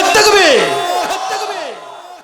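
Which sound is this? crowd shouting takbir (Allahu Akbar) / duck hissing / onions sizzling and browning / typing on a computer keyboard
crowd shouting takbir (Allahu Akbar)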